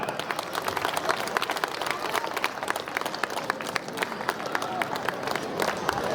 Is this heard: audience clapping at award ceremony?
yes